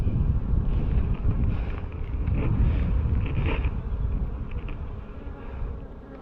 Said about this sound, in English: So these bees are a little bit more aggressive, but they're a bigger hive.